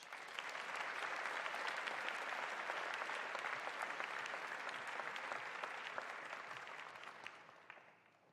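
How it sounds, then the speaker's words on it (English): A school assembly crowd gives a long, even round of applause, a dense wash of many hands clapping at moderate distance that swells, holds steady, then tapers off near the end. "Let's give them a round of applause"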